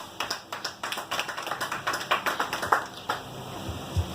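A church congregation applauds during a testimony service, a fairly close run of quick, rhythmic claps that goes on steadily for several seconds before thinning out.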